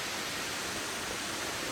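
Steady, dense rushing of North Falls cascading nearby, a constant broadband roar of falling water with no pauses or voices.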